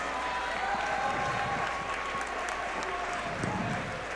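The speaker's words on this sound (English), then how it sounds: "Please give another round of applause for our 7 Palm seniors and parents" A gym crowd at a varsity boys' basketball game applauds for seniors and their parents, a steady, fairly faint wash of clapping that carries on throughout.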